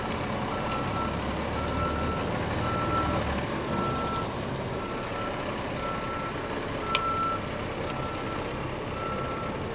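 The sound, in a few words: truck driving over to dump its load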